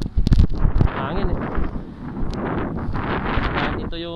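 Heavy wind buffeting a microphone with loud rumbling gusts, roaring continuously throughout and briefly masking a voice in the background.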